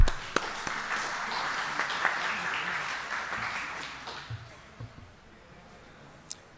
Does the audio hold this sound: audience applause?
yes